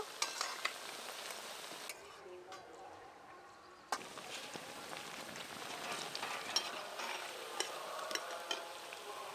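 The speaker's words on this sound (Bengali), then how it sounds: "সব বড়াগুলো একবার করে উল্টে উল্টে দেব" Raw banana fritters fry in oil on a home stove and are flipped over one by one, a constant bubbling sizzle broken by spatula taps and scraping against the pan.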